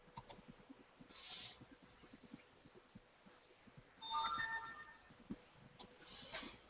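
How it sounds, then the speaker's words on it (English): A phone goes off in a quiet room with a couple of short electronic chirps, then a brighter ringtone melody, faint and intermittent over low background clicks. "that your phone going off?"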